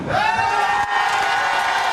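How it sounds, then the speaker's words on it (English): A Liberal caucus of MPs cheers loudly and steadily, a dense wall of whoops and shouting voices close by that holds its energy throughout with no pause. "With the caucus feeling so victorious, they cheered regular old MPs too"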